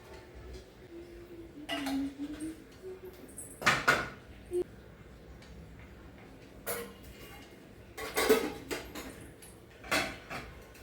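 Kitchen utensils clatter during morning cleanup after idli and sambar are made, with a few sharp clinks and knocks spread across the stretch and quiet handling between them. There is no talk.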